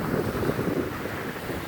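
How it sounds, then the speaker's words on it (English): Gusty wind buffets the microphone on a sandy lakeside beach, a loud rumbling roar with soft lapping water beneath it and no voices. "It's getting more windy."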